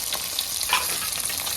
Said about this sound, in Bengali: আর আমাদের মাছ ভাজা হচ্ছে